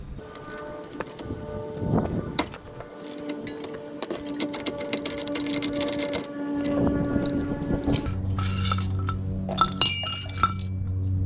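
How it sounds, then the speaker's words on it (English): Inner tie rod being unscrewed with a removal tool on a 2001 Lexus ES300: close metallic clinks, rattles and a rapid clicking burst, followed by a steadier tonal hum with scattered taps. "my removal tool. Unscrewing the inner tie rod."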